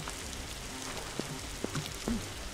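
Rain falling in the blocky sandbox game Block Story, a steady hiss of rainfall throughout with a few brief louder taps and clicks, no talking.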